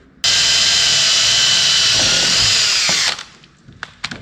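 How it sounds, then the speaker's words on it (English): A power drill pre-drills into aluminum while an RV is being fitted out: a loud, sustained high whine runs for about three seconds, then stops abruptly, followed by a few faint clicks. "All right, I guess I'm pre-drilling."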